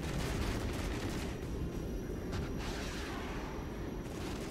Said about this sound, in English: Looks like our artillery is doing some work over here.